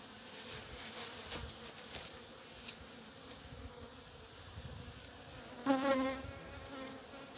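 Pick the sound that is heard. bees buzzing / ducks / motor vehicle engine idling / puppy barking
bees buzzing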